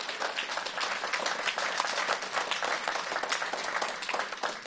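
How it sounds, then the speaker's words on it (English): A room of attendees at a press conference breaks into steady applause, dense overlapping claps holding a fairly even level without voices on top. "I'd like you to go ahead and clap"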